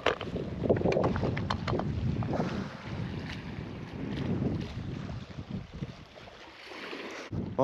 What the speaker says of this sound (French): Il y a un gars en train de descendre son bateau à l'eau.